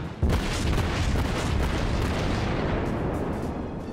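A heavy naval gun salvo in World of Warships, fired from a Mogami cruiser, erupts with a loud deep boom and then rumbles and rolls on for several seconds without any talking.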